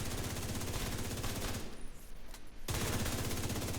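Rapid automatic gunfire in The Division 2 shooter game, dense continuous bursts aimed at a target, stopping briefly for about a second before resuming loud and close.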